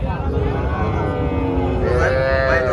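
Brahman bull calves at a cattle market, a low moo-like call rising around the middle of a continuous crowded background hum, with livestock noise and voices mixed throughout.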